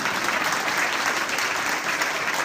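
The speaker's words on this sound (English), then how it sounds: "You can clap." At a hospital partnership signing ceremony, an audience claps to congratulate a newly named vice chair, a thick, continuous burst of applause at steady loudness with no voices over it.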